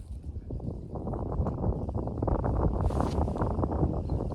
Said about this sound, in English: I've got a little bit of wind here at the moment